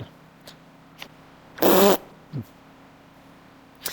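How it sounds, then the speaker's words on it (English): A dog lets out a single loud, buzzy fart in the middle of a quiet room, with a few faint knocks and rustles scattered before and after it. "you've got to stop farting"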